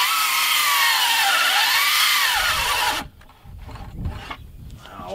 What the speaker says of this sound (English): Oh, that's why I use the chainsaw.